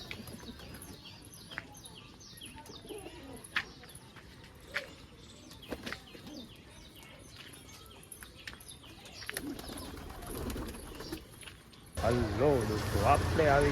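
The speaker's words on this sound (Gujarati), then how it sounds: "ચલો, આપણા કબૂતરે કરી લીધો છે નાસ્તો." Pigeons that have just been fed give sparse, faint coos and chirps with scattered soft clicks in a quiet setting. A louder burst of noise comes at the very end.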